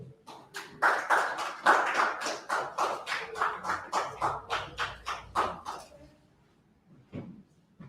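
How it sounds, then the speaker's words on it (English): During a scripture study class, hands clap in a steady, evenly spaced rhythm of about twenty sharp, close claps that stop abruptly, followed by a couple of scattered claps after a short pause. "Let's clap it up"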